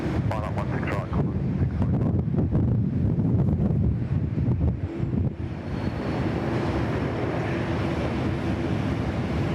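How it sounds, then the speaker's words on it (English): A gust of wind buffets the microphone outdoors at Sydney Airport, a loud roaring rush over a faint background voice, easing after several seconds into a steadier hiss. "That silly gust of wind, just as it was crossing the piano keys then, got me."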